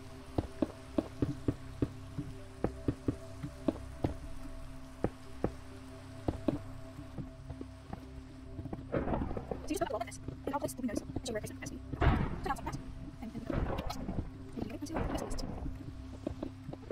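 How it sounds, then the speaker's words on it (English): Rain falls in a desert-building video game, a soft steady patter with scattered sharp drop taps and some clicking, under someone talking quietly. "Oh, it started to rain."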